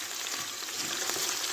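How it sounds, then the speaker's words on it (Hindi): Chicken drumsticks frying in a pan make a short burst of steady, close hissing sizzle at moderate level, with faint crackles and no talking. "ये दूसरी साइड से भी अच्छे से फ्राई हो चुके हैं।"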